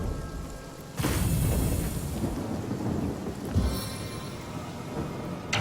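Heavy rain from a magic rain spell in the video game Divinity: Original Sin, a steady broadband downpour that swells into a loud burst after about a second, with a rumbling thunder-like crack midway, no voices.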